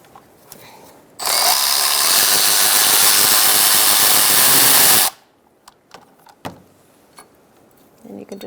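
A 12mm power tool running on a bottom bolt of a 2010-2013 Kia Soul 2.0L four-cylinder engine, one loud sustained whir of about four seconds with quieter clinks and handling noises before and after.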